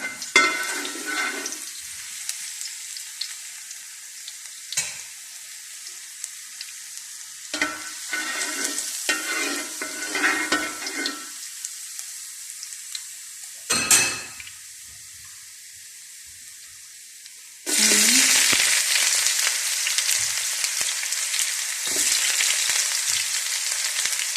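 Minced garlic hits hot oil in a pan with a sudden loud, steady sizzle that fills the last few seconds, after quieter clinks, tap-water splashes and kitchen handling sounds.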